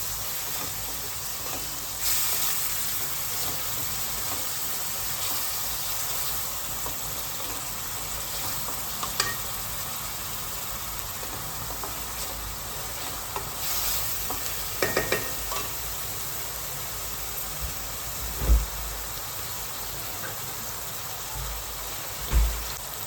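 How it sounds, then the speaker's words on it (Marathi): Onion browns in a hot pan with a continuous sizzle and hiss, with a few clinks and scrapes of stirring along the way, heard close at moderate loudness with no voices. "कांदा चांगला लालसर होऊन द्यायचा आपण"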